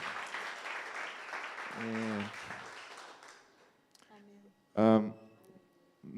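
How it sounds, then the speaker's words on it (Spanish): Applause from a church congregation fills the first few seconds, broadband and steady, then fades as a voice and some singing come through. "Le damos a Dios un aplauso."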